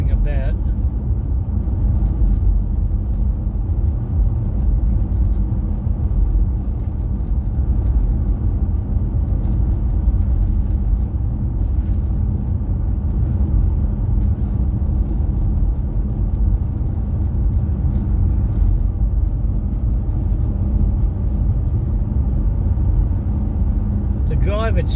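Steady low road rumble of a car cruising along a quiet road at night, continuous and even throughout with no talking.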